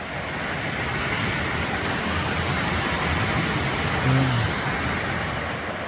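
A creek flows beneath a small log bridge on the Appalachian Trail in the woods of New Hampshire or Maine, a steady, dense rushing hiss that fills the whole scene without pause.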